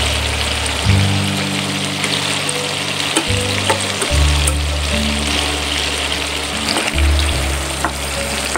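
Meatballs for creamy Swedish meatballs fry in oil until crisp, a steady close sizzle and crackle running throughout with faint stirring and low kitchen hum beneath.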